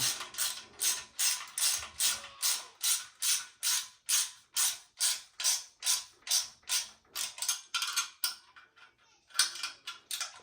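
A ratchet wrench tightens bolts on a motorcycle's 190mm rear shock, giving a close, crisp series of around twenty evenly paced clicking strokes that slow and falter toward the end.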